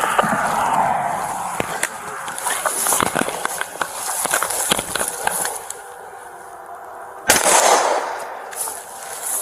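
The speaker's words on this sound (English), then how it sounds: "They're inside actively shooting." Gunfire from suspects holed up inside an immobile vehicle during a police shootout, heard as a series of sharp cracks scattered through noisy street ambience, with a louder burst near the end.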